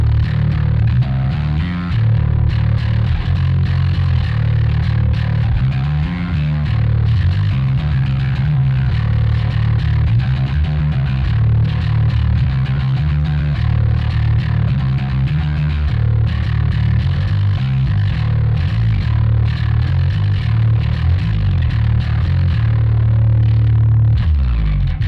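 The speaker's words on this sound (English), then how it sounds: "So the first distortion sound is the Audio Surplus" An electric guitar played through an Audio Surplus Lurid Machine distortion pedal gives a thick, loud, sustained overdriven tone with chugging rhythmic chords that runs unbroken for the whole stretch, with no voice over it.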